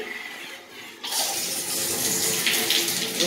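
Water bursts from a clawfoot tub shower faucet after about a second of quiet, then runs as a steady, close hiss with brief splashy surges.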